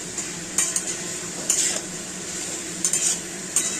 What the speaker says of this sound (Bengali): একটু মাখিয়ে নিচ্ছি।